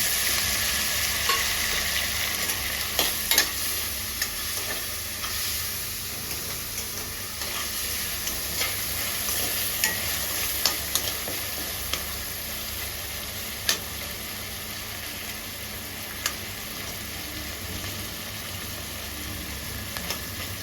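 Tomato sizzles and fries in a pan for a gongura gravy, giving a steady close hiss with occasional clicks of stirring and no speech.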